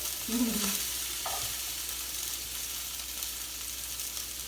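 Salmon fillets sizzle in a frying pan with a constant close hiss, while a couple of soft knocks early on suggest the fish being turned or nudged. No one speaks.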